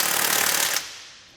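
Impact wrench with a 22mm socket tightening a bolt into a weld nut while fitting a trailer hitch receiver on a 2017 Chevrolet Silverado, a loud rapid hammering burst under a second that stops abruptly and rings down.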